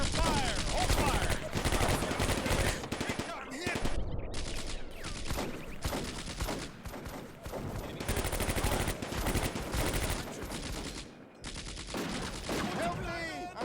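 Sustained gunfire and machine-gun bursts from the WWII North Africa game Combat Mission: Afrika Korps, dense and loud throughout with overlapping shots and brief lulls, shouted voices mixed in.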